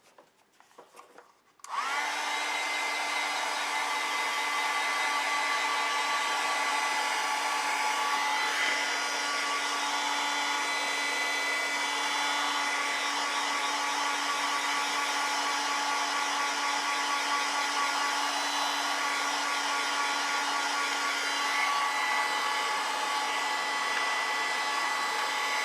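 A hair dryer blows on an ink and wash flower painting, switching on after a brief pause and then running as a loud, steady, close whir for over twenty seconds with no talk.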